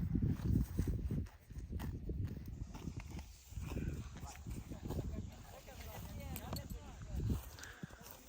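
A mare walks along, her hooves clip-clopping in an uneven rhythm at close range, with people talking over the steps through much of it.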